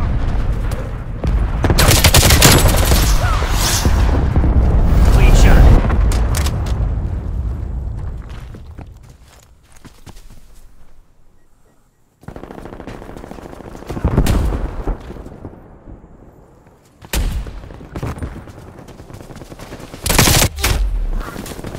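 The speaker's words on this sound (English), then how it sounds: "Artillery targeting detected. Neck hall, incoming artillery." Incoming artillery in Call of Duty Cold War pounds in long, loud stretches of blasts and rumbling gunfire, drops to near quiet for a moment, then returns in further heavy bursts.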